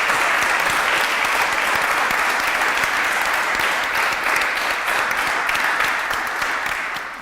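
An audience at a round table in Vitoria-Gasteiz gives sustained, dense clapping that holds steady and tapers slightly at the close.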